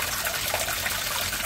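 Water gushing hard from a cut pipe in the kitchen of an abandoned mansion, a dense, continuous splashing hiss heard close and unbroken.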